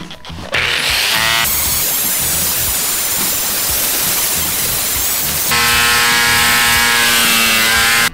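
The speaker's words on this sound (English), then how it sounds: "This is big ass seven inch grinder with a really rough abrasive sanding pad here." A loud seven-inch angle grinder with a rough abrasive sanding pad roars with a hiss as it removes mill scale from steel, its pitch rising sharply for the last few seconds.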